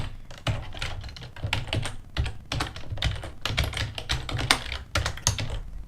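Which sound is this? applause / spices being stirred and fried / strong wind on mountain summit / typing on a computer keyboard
typing on a computer keyboard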